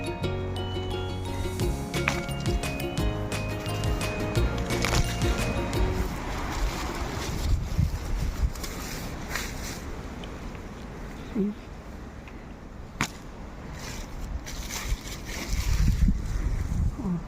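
Gusty wind buffets the microphone in uneven rushes around a small, heavily fruiting orange tree, with bursts of talking and some clatter mixed in.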